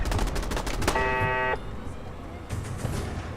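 Alien assault rifle firing in Fallout 4, a rapid burst of sharp, loud energy shots followed by a bright steady electronic tone, then a quieter second volley of shots near the end.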